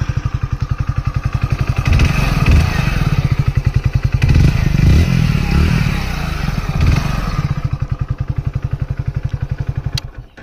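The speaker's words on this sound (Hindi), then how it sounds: "इसी के साथ मैं आप लोगों को इस बाइक का जो है एग्जॉस्ट नोट भी सुना दूं।" A 2022 Hero Splendor Plus BS6 motorcycle exhaust idles with a steady low thump, then swells into several revs for a few seconds before settling back to a loping idle, close and loud.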